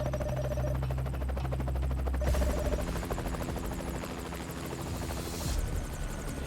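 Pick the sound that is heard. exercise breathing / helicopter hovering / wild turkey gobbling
helicopter hovering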